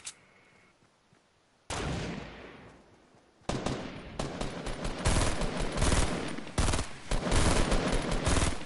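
Rapid bursts of gunfire in the video game Fortnite, a quieter opening followed by loud, dense automatic volleys with sharp individual shots, close and continuous without talk.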